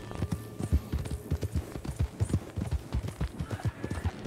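Horse hooves clip-clop in a rapid, steady rhythm in the video game Red Dead Online, a series of loud, close thuds running the whole time with no talk over them.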